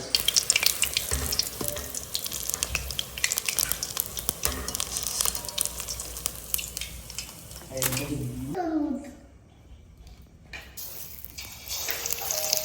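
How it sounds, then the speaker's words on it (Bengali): Cauliflower pakoras frying in hot oil, a dense continuous sizzle and crackle with scattered pops, a voice talking over it before the sizzle briefly drops away. "একটু পকোড়া ভেজে দিই"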